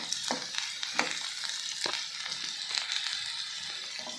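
Coriander and curry leaves fry in oil alongside bitter gourd in a pan, giving a steady close sizzle broken by a few soft scraping stirs.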